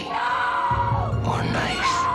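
A woman's scream in a horror story setting, a loud sustained shriek that rises and wavers over about two seconds, close and dominant.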